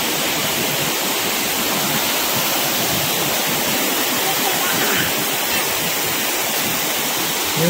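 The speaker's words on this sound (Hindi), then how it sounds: "ये है रानी दा का कुछ सीन, जहाँ वाटरफॉल बोलते हैं इसको, रानी दा वाटरफॉल" Rani Dah waterfall pours with a loud, steady roar of rushing water, an unbroken broadband wash heard up close with no voices over it.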